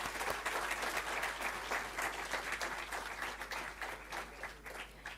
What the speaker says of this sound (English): A huge round of applause for School of Commerce